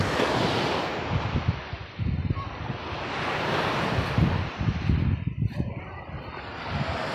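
Waves wash in a quiet, cold sea where someone is swimming, a broad steady surf wash with soft rolling surges and some wind buffeting the microphone.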